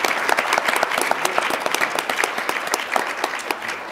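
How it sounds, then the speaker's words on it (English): Audience applause fills a conference hall after a panel introduction, a dense steady clapping from many hands that holds at full strength for several seconds with no voices over it. "Let's show a round of applause to him as well."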